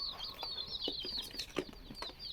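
Chickens being moved into crates give short, faint clucks and squawks, with some rustling and possible wing flaps, and no talking.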